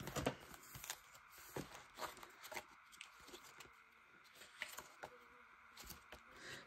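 A housefly buzzes faintly close by, its drone rising and falling in short bursts, with light tapping and rustling in a quiet room.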